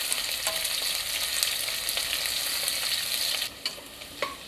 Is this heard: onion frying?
yes